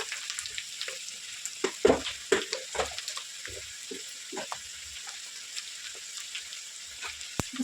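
Ginger paste sizzles in hot oil with onions and chillies, with a soft steady frying hiss broken by scraping stir strokes and occasional louder pops, close and fairly quiet.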